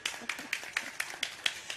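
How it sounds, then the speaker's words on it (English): A few people clap faintly and fairly evenly at a live tech demo of Stereolabs 3D computer vision. The short claps are thin and sparse rather than a full roar of applause. "You guys can totally clap if you want, too."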